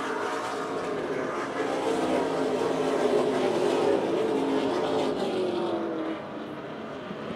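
Race cars roar around the track at the 2023 Boss Hogg 150, a loud continuous engine wail from several cars close together that swells and then fades slightly toward the end.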